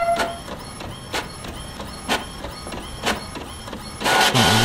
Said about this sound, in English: Galing ng printer, wireless